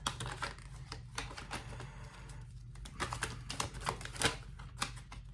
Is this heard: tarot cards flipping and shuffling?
yes